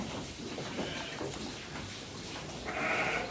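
A sheep bleats during lambing, the calls faint and somewhat distant over a steady wash of outdoor background noise, with a stronger bleat toward the end.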